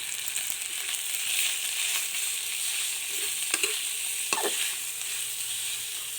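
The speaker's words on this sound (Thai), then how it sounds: "ใส่พริกแกงลงไป ผัดให้หอมแล้วก็ใส่หมูลงไปค่ะ ผัดให้มันสุก" Pork stir-frying with red curry paste in a hot pan for stir-fried pickled bamboo shoots, with a loud continuous sizzle and a couple of sharp spatula scrapes and knocks.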